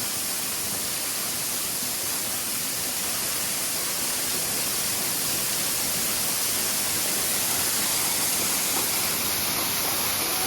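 A waterfall rushes in a constant, loud hiss of flowing water. The dense, even roar holds steady throughout with no voices.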